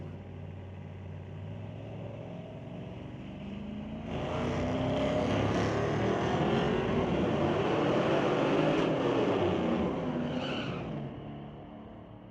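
A 2003 Extreme Pickup and a 1966 Mustang launch together in a sportsman drag race, their engines swelling into a loud, sustained roar for several seconds before fading slightly at the end.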